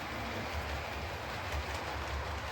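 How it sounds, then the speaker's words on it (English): Model train pulling eight coaches around the outer loop of a layout track, a steady low rumble with soft rhythmic clicking of wheels over rail joints, close and continuous, with no talking. "8 coaches. That's pretty much a proper train."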